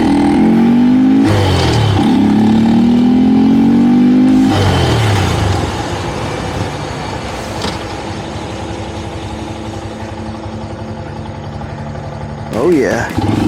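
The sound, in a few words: Honda Grom motorcycle engine with K&N airbox filter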